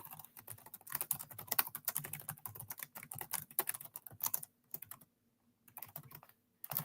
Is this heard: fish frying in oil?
no